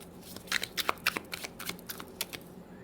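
Tarot cards being shuffled by hand at close range, a run of quick papery riffles and soft slaps repeating irregularly with no voice over them.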